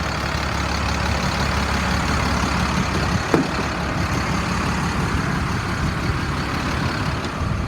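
A 2007 International 4400 dump truck idles steadily with its PTO engaged to raise the dump bed, a loud, continuous low diesel rumble with a brief clank partway through.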